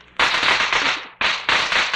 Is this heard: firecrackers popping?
yes